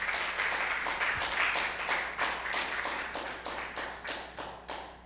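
A church congregation gives steady applause during a worship service, a medium-sized crowd clapping in a continuous, slightly rhythmic patter at moderate volume that holds throughout without speech.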